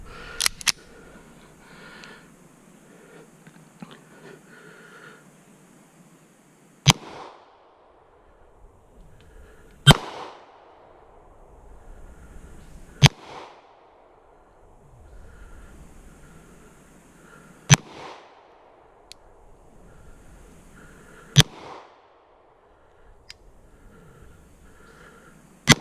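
Six sharp pistol shots ring out from a Wilson Combat Centurion Tactical at a shooting range, spaced a few seconds apart, loud and close, with quiet handling sounds between them.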